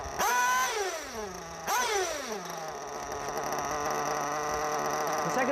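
A motorcycle engine has its throttle blipped twice, each rev rising sharply and then winding back down, before it settles into a steady, slightly rough idle for the rest of the clip.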